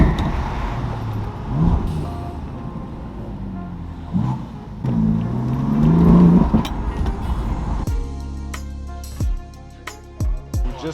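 A BMW M5 with a V10 and straight pipes pulls up and parks on a main street: a steady, loud exhaust rumble, then a few sharp throttle blips that drop off, with short pauses between them.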